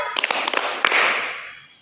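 A group playing a hand clapping game: a few quick, sharp claps in a loose burst, then a louder, brief wash of many hands clapping that fades out, close and without speech.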